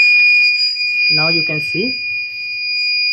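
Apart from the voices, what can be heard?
LPG gas leak detector buzzer alarm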